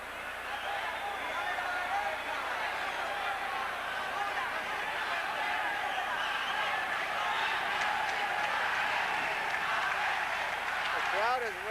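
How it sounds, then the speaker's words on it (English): A boxing arena crowd roars and applauds continuously during a 1980 bout, a dense, loud wash of cheering with a commentator talking over it. "The crowd is roaring for Alexis Arguello to get going, but it's Ramírez who lands."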